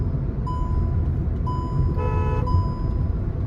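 A Hyundai i20 under test drive after a clutch repair hums along with engine and road noise. Short tonal beeps sound repeatedly, and a brief horn toot is heard about two seconds in.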